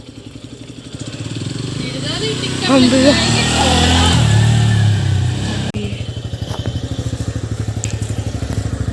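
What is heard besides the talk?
motorbike or scooter engine being ridden outside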